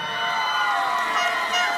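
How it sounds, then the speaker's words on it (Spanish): Crowd at a school olympics opening ceremony cheering and clapping, a dense, steady wash of many voices and hands with children's shouts rising through it, close and continuous for the whole moment. "¡Fuerte el aplauso!"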